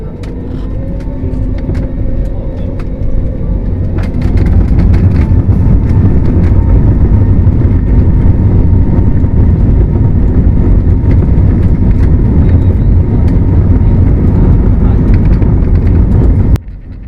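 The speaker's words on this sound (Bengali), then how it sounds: "রানওয়ে থেকে দ্রুত গতিতে বিমানটি ছুটে চলছে আকাশে ওড়ার জন্য" A jet engine roars loudly and steadily as an airplane speeds down the runway for takeoff, the rumble swelling after a few seconds and cutting off near the end.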